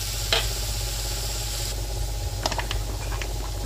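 Meatballs dropped into a hot pan while Javanese noodles are being cooked, bringing a steady close sizzle over a low hum, with a few brief clinks and stirring scrapes partway through.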